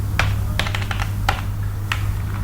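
Someone types code on a computer keyboard, giving a handful of crisp, irregular key clicks close by over a steady low hum.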